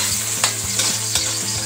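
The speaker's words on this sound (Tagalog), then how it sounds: "At gigisahin na natin yung manok." Chicken pieces sauté in a hot pan, giving a steady, loud, close sizzle broken by a few scraping stirs. Nobody speaks.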